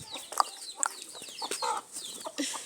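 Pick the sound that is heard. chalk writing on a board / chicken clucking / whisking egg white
chicken clucking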